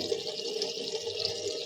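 Tap water runs in a steady, continuous rushing stream while someone washes their face, fairly close and unbroken, with no voices.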